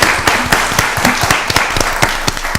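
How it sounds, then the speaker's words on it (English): Applause at a county board of commissioners meeting, a modest round of sparse, distinct hand claps from a small group, fairly close and steady for a few seconds. "Let's give them a round of applause."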